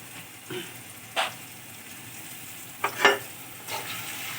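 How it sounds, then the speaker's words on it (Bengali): Potatoes frying in a pan in a home kitchen give a soft, low sizzle with a few brief bursts of stirring and crackle, close but quiet. "আমি একটু আলুটা অল্প করে ভেজে তুলে রেখে দেবো"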